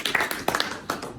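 Audience at a poetry reading clapping briefly, a short scattered burst of nearby hand claps from a small crowd with no talking.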